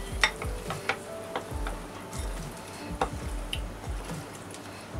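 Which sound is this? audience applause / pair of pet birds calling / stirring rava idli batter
stirring rava idli batter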